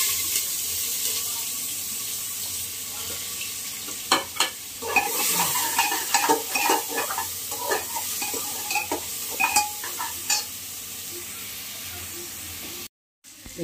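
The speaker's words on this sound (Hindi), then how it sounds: "हम एक जो चॉप किया हुआ प्याज था अब उसको ऐड कर देंगे" Chopped onion hitting hot oil with cumin seeds for a jackfruit curry, sizzling steadily while a spoon stirs and scrapes the pan in bursts, with some clatter and running water nearby.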